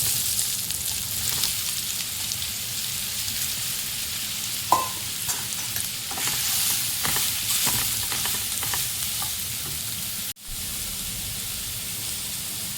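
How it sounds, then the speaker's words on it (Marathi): Soybeans fry in hot oil in a pan, giving a continuous close sizzle and hiss, with scattered scraping clicks and knocks as they are stirred and no talk. "सोयाबीन टाकते।"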